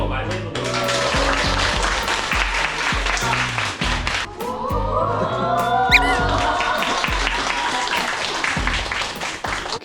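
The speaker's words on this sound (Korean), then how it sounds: "다들 한번 좀 박수로 맞이해보도록 하겠습니다." High school girls in a classroom cheering and applauding a welcome for a visitor, with lively clapping and excited shrieks mixed with background music and loud, layered voices throughout.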